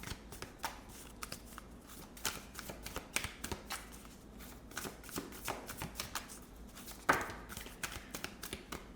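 A deck of tarot cards is shuffled close by during a pick-a-card reading, giving a steady run of soft riffling flicks and taps over a quiet hiss.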